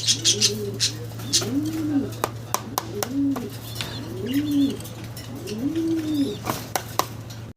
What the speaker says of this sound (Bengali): গোল্লা কবুতর, আরও একটা গোল্লা কবুতর, কালারিং গোল্লা।